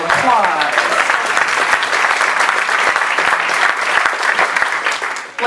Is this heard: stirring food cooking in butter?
no